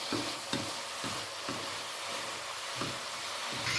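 Spice powder being stirred into food frying in a pan, a continuous loud sizzle with repeated scraping strokes of the spoon at an irregular rhythm, close and alone.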